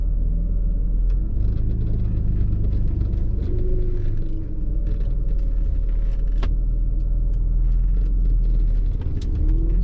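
A supercharged 4.0-litre straight-six in a 1994 Jaguar XJS idles while warming up, a steady low rumble throughout with no talk and faint mechanical ticks and clicks above it.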